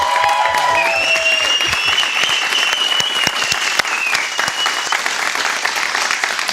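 Sustained audience applause and cheering for two hosts during a live stream, dense and continuous throughout with a few higher voices whooping briefly at the start.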